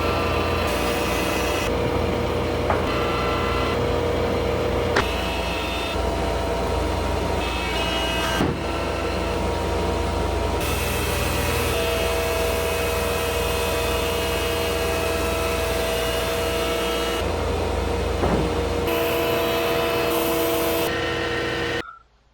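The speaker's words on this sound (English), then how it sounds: "So I got all the boards planed down." A planer mills walnut boards in a hot workshop, giving a loud, continuous machine roar with a steady motor whine and repeated passes of the cutter over the wood.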